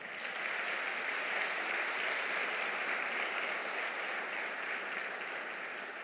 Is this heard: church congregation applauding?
yes